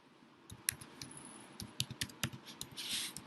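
Typing on a computer keyboard while editing a chart title in Microsoft Excel, a quick irregular run of close, crisp key clicks lasting a few seconds with no voice.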